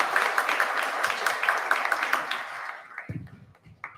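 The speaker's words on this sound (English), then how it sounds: "We'll have one applause for her." At an opening ceremony, an audience claps in a brief, moderately loud burst of applause that thins out and stops after a few seconds, followed by scattered quieter sounds.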